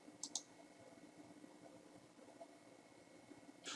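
A short double click of a computer mouse on a save icon in real estate commission software, faint and near against a quiet background hum, with another light click at the end.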